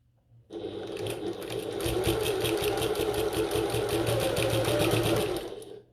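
A sewing machine fitted with a walking foot runs steadily around a bag strap on a bucket tote, a continuous close whirring hum with fast rhythmic stitching that starts abruptly and stops sharply about five seconds later.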